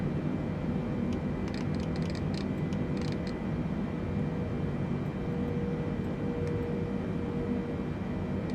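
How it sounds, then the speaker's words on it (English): A Boeing 747-8 Intercontinental in Microsoft Flight Simulator 2020 drones with a steady, broad engine roar that holds even and continuous at moderate loudness, with a faint rising tone partway through. "You hear our plane now increasing in speed."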